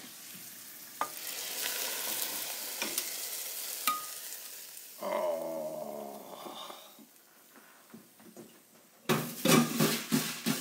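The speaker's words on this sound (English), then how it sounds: "now listen to the noise he make this oil and garlic" Garlic crackles and sizzles in hot oil in a pan, with a stirring scrape partway through and a louder burst of frying near the end. No one speaks.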